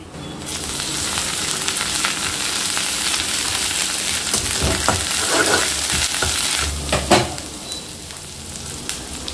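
Onion frying in oil with garlic and ginger paste, a loud, close, steady sizzle with bursts of stirring and scraping toward the end.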